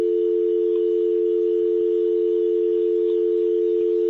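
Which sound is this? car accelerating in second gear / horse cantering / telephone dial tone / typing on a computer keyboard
telephone dial tone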